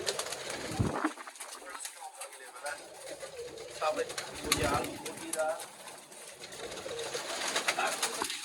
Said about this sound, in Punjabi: ਤੁਸੀਂ ਇਹ ਲੱਠੇ ਕਬੂਤਰ ਨੇ